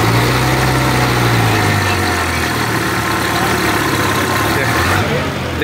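A Kartar Globetrac 4x4 5936 tractor fitted with an original Kirloskar engine runs at a farm fair stall, a steady loud low-pitched engine drone that continues throughout with surrounding fair noise.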